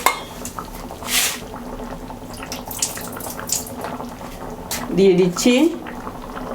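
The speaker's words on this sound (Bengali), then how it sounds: "কিছুটা ফুটতে দিচ্ছি" Katla fish curry with taro simmers in a pot, a soft bubbling with clinks of a utensil against the pot and a few splashy stirs, someone speaking briefly over it.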